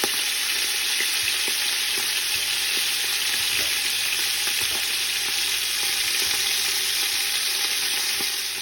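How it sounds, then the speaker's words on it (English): Short ribs browning in a pan for an Italian sauce, a steady hissing sizzle with scattered small crackles and pops, moderately loud and close, unbroken across the whole stretch with no talk. "Now I got my short ribs in. We're going to brown these up."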